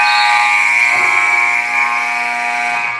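The end-of-half buzzer sounds in a basketball arena during a Magic vs Knicks game, a loud, harsh, sustained electronic tone that holds steady for about three seconds.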